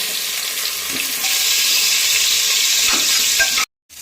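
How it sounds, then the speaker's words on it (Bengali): Potatoes sizzle and crackle in hot oil in a pressure cooker in a steady rush, with a few faint clinks of a utensil partway through. "এখন প্রেশার কুকারে আলুটা একটু ভেজে নেবো"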